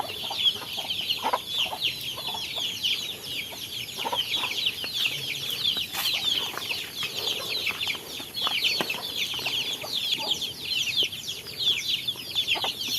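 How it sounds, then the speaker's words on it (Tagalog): A large flock of chickens clucks in a dense, continuous chorus of overlapping calls, steady and fairly close throughout. "Ayan, daming manok."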